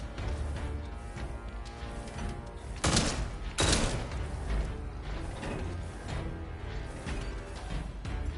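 Sustained gunfire from the video game Atomfall, a dense, continuous rattle of automatic shots with two heavier bursts near the middle, loud and close with no talking.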